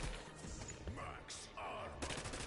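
Rapid gunfire bursts and sharp shots ring out in a video game, under and around speaking voices, dense and continuous through a short stretch.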